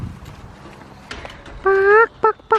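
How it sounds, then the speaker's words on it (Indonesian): A few loud, close clucks from a chicken near the end, one longer call then two short ones, over quiet background rustle. "itu ayam"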